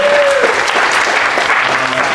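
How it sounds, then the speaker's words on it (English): A crowd at a food talks event applauds the speakers, a loud, dense burst of clapping that fills the short moment with a faint tone briefly showing near the start. "I first want to thank all the speakers tonight. I think you're great. This was great, and a round of applause."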